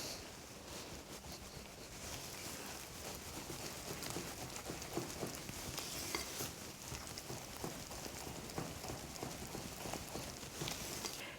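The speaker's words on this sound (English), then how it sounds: "So now we just need to mix the 2 lots of ingredients together" Dense, steady stirring and scraping as batter and dry ingredients for a gluten-free chocolate self-saucing pudding are mixed together in a bowl, with a continuous busy texture and no talk.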